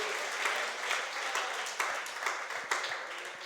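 A church congregation applauds during a Spanish-language seminar sermon, a dense, steady wash of many hands clapping at moderate distance, with a few sharper individual claps standing out and no voices.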